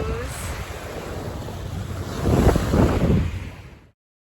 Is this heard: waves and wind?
yes